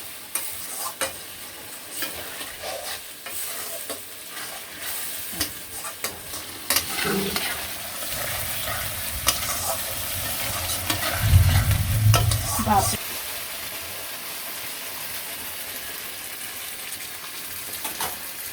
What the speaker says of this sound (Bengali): মশলা আর আলুটা একটু ভালো করে কষানিও